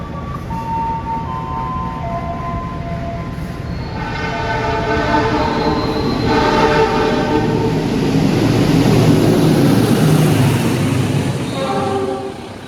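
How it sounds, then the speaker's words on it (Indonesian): Sancaka express train passing at speed, a loud horn with steady tones sounding over heavy rolling rumble that swells through the middle and stays strong to the end. "Sudah resmi disusul kereta api Sancaka. Melintas langsung di sini ngebut kayak teman-teman."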